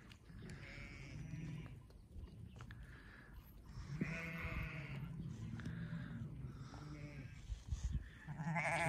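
Goats bleat repeatedly outdoors in cold winter weather, several wavering cries at a moderate distance over a quiet background.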